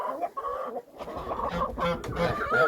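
Loud honking and cackling calls from domestic geese, several birds calling over one another close by, with repeated harsh bursts throughout.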